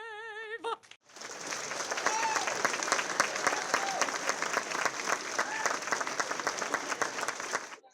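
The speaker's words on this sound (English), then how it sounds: "How about another round of applause for Gina?" Sustained audience applause at a formal ball event, loud and steady crowd clapping with cheers that begins after a brief singing voice and continues to the end.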